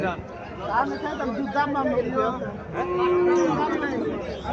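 A local desi cow moos once with a long low call amid crowd chatter and nearby talking at a busy livestock market.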